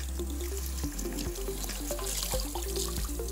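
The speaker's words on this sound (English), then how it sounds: "I'm now going to rinse her off in cold water" Cold tap water runs steadily while hair is rinsed under it, a close, continuous splashing stream with small drips and shifts.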